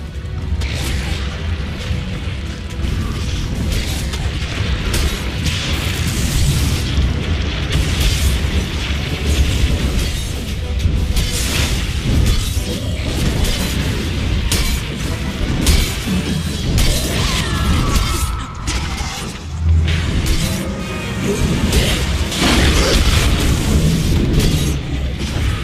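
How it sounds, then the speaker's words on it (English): Dota 2 battle around a tower under attack, a dense, loud, continuous wash of booms, impacts, spell bursts and crashes filling the whole stretch without pause. "Dire's top tower is under attack."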